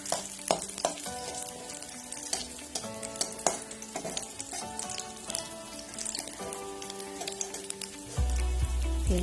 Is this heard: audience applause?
no